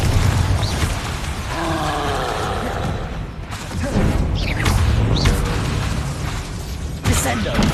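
Fire blast spell in the video game Hogwarts Legacy, with bursts of explosive booms and crackling impacts amid game effects and a voiced incantation, loud and close.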